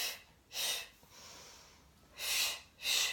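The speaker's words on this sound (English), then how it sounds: "we inhale as we swap, exhale, inhale, exhale" Someone doing a Pilates leg-swap exercise breathes in through the nose and out through the mouth, with three short, fairly loud airy breaths separated by quiet pauses.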